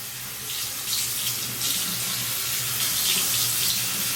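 Water runs steadily from a tap onto curly hair being wet down, a close, continuous splashing hiss with no talk.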